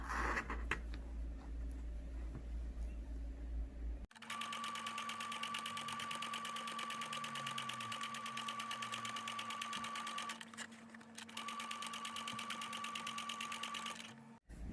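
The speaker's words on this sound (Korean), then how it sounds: "겉면 박음질 할 때 안과 잘 마주치게 박음질 하시기 바랍니다." A sewing machine runs steadily while stitching a fabric hood, a fast even whirring hum that holds for about ten seconds, pauses briefly, then resumes; close and alone.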